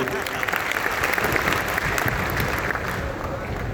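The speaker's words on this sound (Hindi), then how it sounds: "एक बार दोनों के लिए जोरदार ताली।" Hall audience applause at a testimonial talk, a sustained, even wash of many hands clapping over nearly four seconds at moderate volume.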